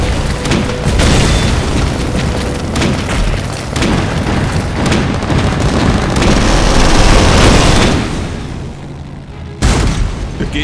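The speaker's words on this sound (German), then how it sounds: "Beginn des Beschusses." Artillery bombardment in the Total War video game, a dense, continuous barrage of loud booming explosions and bursts that rumbles for about eight seconds before thinning out, with a few final blasts at the end.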